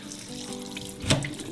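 Tap water runs steadily into a sink while raw meat is washed for Isfahani biryani, a soft continuous splashing flow that swells briefly in a louder gush near the end.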